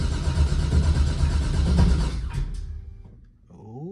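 Car engine with a freshly restored battery cranking and catching, a rough mid-pitched churn for a few seconds that fades into a quieter rising whine.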